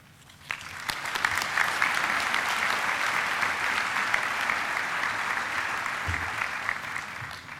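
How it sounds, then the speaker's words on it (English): A graduation ceremony crowd breaks into applause, rising quickly from near silence and then holding as a steady, dense wash of clapping for several seconds before fading slightly. "Can we give her another round of applause, please?"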